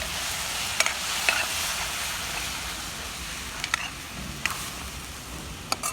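Chili powder, garam masala and turmeric are stirred into a pan while Maggi noodles cook, giving faint, soft scraping and a low simmering hiss, with a few light clicks of a utensil against the pan.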